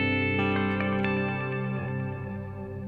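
Electric guitar played through overdrive pedals rings out in a loud, saturated sustained chord with a few picked notes over it, slowly fading across roughly three seconds.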